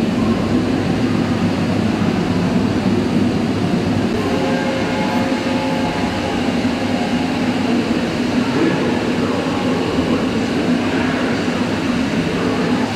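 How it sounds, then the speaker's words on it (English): Birmingham trams running on archive film make a continuous, loud rolling rumble with steady mechanical drone and no voices over the sound. "The museum has lots of films of trams in action."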